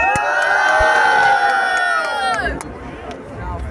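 A live audience at a Brazilian rap battle cheers and shouts loudly for the third round, a dense crowd roar with whistles that swells, then drops off abruptly after about two and a half seconds into quieter crowd murmur.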